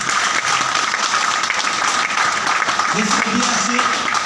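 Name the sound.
audience clapping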